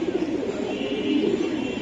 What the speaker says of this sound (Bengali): এই যে আরেকটা কবুতর,